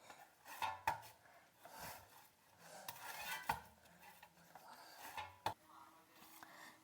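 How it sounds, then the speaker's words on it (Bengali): Dough for kuli pitha, a village-style Bengali winter sweet, being mixed and kneaded by hand in a bowl: quiet, soft squelching and scraping with scattered light clinks of a utensil against the dish, uneven and close. "ভালো করে আমি একটু ডো বানিয়ে নিচ্ছি মেখে"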